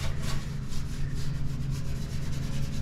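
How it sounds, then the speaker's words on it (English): A soft brush scrubs dirt and rust off a 1981 Dodge D150 pickup truck, making a close, continuous rough rubbing hiss with quick back-and-forth strokes. "now that I got something a little softer, I'm going to use it to brush a lot of this heavy stuff off"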